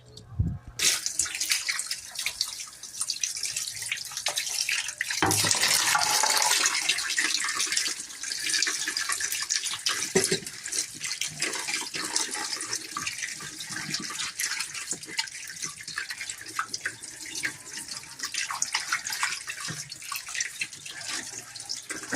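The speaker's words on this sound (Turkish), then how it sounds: "Şimdi yıkama işlemine geçiyoruz değil mi?" Melon seeds are washed by hand under a running kitchen tap, a steady close rush of water with splashing and rubbing throughout, no voices.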